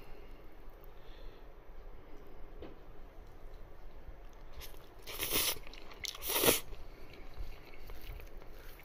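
Yakisoba flavored with Happy Turn rice crackers, topped with tempura bits, being eaten: two loud crunchy bites come close together near the middle over a quiet room, with no talking.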